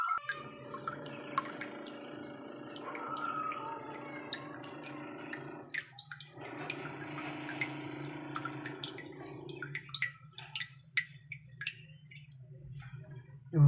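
Water trickles and drips steadily through a homemade organic water filter, a quiet continuous flow with scattered close droplet ticks that thin out toward the end.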